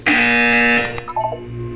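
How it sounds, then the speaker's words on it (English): An electronic buzzer from the video game Portal 2 sounds once, a harsh, loud tone lasting under a second, followed by faint quieter game tones. "You will hear a buzzer."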